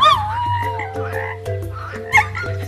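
A cartoon frog croaks in a steady, low, rhythmic series of close croaks, with chirpy animated voice-like calls and bird-ish sounds layered over them.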